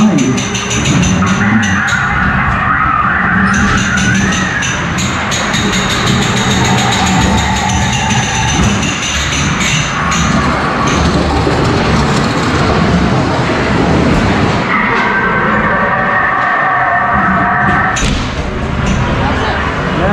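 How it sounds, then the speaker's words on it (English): A vintage ghost train ride at a fun fair at Folly Farm runs with a continuous rumbling engine and clattering thumps, joined by bursts of loud spooky sound effects. Voices occasionally come through the din. "Bit of a vintage ghost train."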